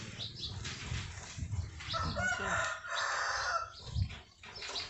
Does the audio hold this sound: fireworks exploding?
no